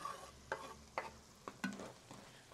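Steak and onion cooking together in a pan, a faint low sizzle broken by several distinct clacks and scrapes of stirring, spaced about half a second apart.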